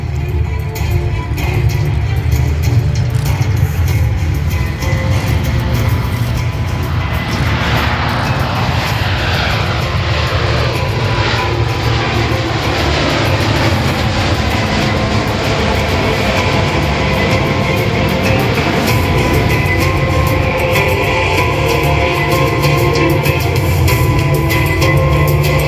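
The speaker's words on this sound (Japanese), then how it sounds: "KC-130 が間もなく離陸します。" A KC-130J Super Hercules transport plane taking off at a military air show, its propeller engines roaring loudly and continuously as it passes, the drone shifting in pitch as it goes by.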